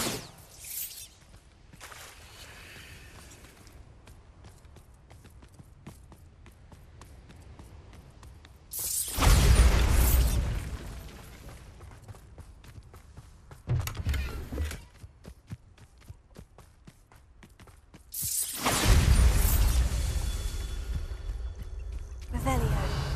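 Bombarda blasting spell explosions in the Hogwarts Legacy video game, three loud bursts with a sharp crack and rumbling roar spaced several seconds apart, over quieter game ambience and a spoken voice.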